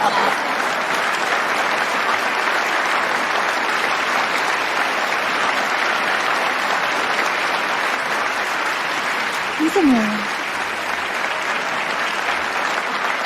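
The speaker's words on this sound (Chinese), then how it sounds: "我觉得掌声可以停下了" An audience at a business meeting keeps up steady, continuous applause for over ten seconds. It dips briefly when a voice speaks near the end, then carries on more softly.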